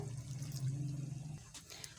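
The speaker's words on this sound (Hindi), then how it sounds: "आधा लीटर इसमें हम पानी शामिल कर लेंगे" Half a litre of water runs steadily into a cooking pot of beef gravy for over a second, a continuous low gush that stops abruptly, followed by faint clinks.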